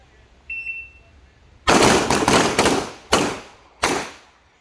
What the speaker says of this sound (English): 1 round to fire every 2 seconds.